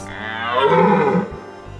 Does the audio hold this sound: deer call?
yes